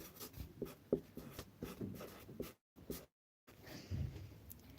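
A pen writes a name on paper in short, close scratching strokes with brief pauses between them, faint and quiet with no talking.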